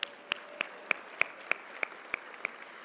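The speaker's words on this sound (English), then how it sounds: "Let's give her another big round of applause." Faint, evenly spaced claps, about three per second, honour a Miss Arkansas 2025 talent winner at a women's hall of fame induction ceremony; the sparse, regular rhythm sounds more like a few hands than a full crowd.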